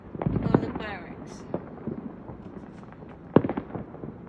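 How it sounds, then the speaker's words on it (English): Fourth of July fireworks over a town, heard from a home deck at a distance: a few dull pops and booms with a whistling rise, under a voice. "All the fireworks."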